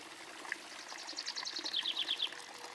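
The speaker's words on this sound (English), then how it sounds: "Here we have a water garden," Water trickles and splashes gently in a garden water feature in Strobl am Wolfgangsee, Austria, a faint, steady outdoor flow with a few brighter chirp-like notes over it and no one talking.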